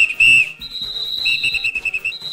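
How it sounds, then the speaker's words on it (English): A referee-style whistle keeps time in a cowbell percussion performance, sounding loud and close: one strong blast, then long sustained tones and a run of short rhythmic pulses near the end. "you must use your whistle in order to keep your timing and keep yourself in pace"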